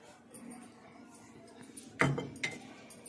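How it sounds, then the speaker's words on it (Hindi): Chopped bathua greens are dropped into a pressure cooker, with a clatter and clink of metal and utensils around the midpoint, followed by smaller knocks in a quiet kitchen. "फिर इसको डाल देंगे कुकर में।"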